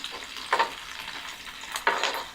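Food sizzles quietly in a pan during Italian cooking, a soft steady crackle with two brighter bursts of stirring or frying noise.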